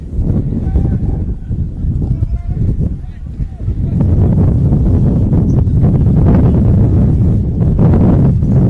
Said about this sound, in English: Going into the wind here, Chris, is South.